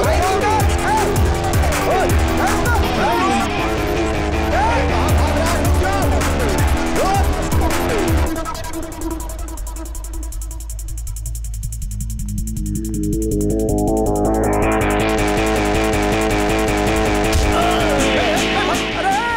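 A car speeds off with tires squealing, its loud engine rising in pitch amid a busy action-movie scene with music and shouting voices over it.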